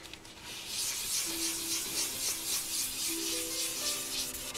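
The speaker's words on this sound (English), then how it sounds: "the flat areas I can do with a soft block just to make it a little bit" Soft block sanding clear coat on a Honda motorcycle fairing, giving a steady, continuous abrasive rubbing rasp with slight rhythmic strokes, close and fairly loud, with no talking.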